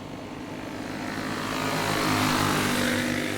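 Junior 3 division go-karts, driven by 12 to 15-year-olds, race around Marion County Speedway, a continuous buzzing engine drone that slowly builds louder as the pack comes around.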